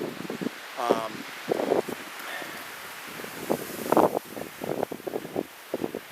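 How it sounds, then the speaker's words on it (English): Outdoor wind gusts across an open bog in October, buffeting the microphone with rough rustling bursts, and muffled voice-like sounds break through at intervals. "you can't tell me you can't hear the wind"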